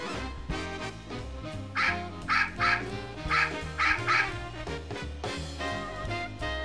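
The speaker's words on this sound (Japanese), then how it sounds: "誰かに描いてもらった犬の絵も泣き出しますよ" A Tenyo Mystery Poodle magic trick gives out a string of short, bright barks and yips in quick bursts, heard over a soft musical background.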